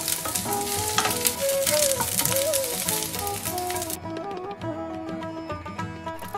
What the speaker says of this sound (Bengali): কেটে রাখা পেঁয়াজের টুকরোগুলো দিয়ে দিলাম, ভালো করে একটু এপিট ওপিট করে ভেজে নেব।